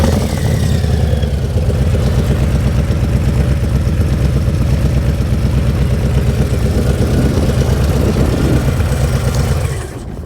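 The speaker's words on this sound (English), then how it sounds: "There's those S&S slip-ons. I'm going to fire that up real quick, let you hear them." A Harley-Davidson Low Rider ST motorcycle fitted with S&S slip-on exhausts idles loud and close with a steady, lumpy V-twin throb that continues for about ten seconds, then drops off at the end.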